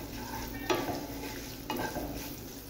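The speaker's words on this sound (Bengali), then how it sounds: "ভালোভাবে নাড়াচাড়া করব।" Spinach sizzles in a pan with ginger and crushed garam masala, a steady frying hiss broken by two sharp scraping stirs of a utensil against the pan, close and without talk.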